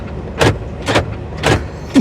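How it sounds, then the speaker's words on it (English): The door of a 2025 Mercedes-Benz G580 electric SUV shutting, heard as several short solid thumps spaced unevenly, close by and fairly loud against a quiet background. "let's close the door. Boom, love the sound of it"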